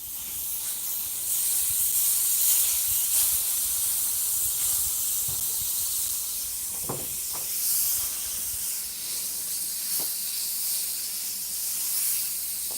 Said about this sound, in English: I'm going to put some onions in here and then the potatoes